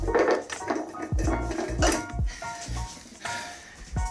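A spoon knocking and scraping inside a jar of sourdough starter in a kitchen, several distinct clinks and taps at close range amid a steady background hum, no talk.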